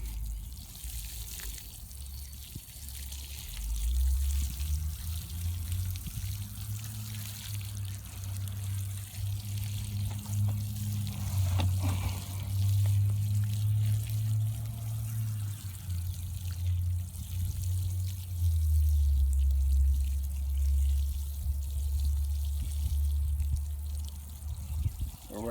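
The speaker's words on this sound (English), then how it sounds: "We'll make sure that we water it in." Water poured from a can or hose onto a newly planted bare-root David Austin rose, 'Jude the Obscure', in a garden bed: a steady, close trickling stream running for most of the clip, with someone speaking over it.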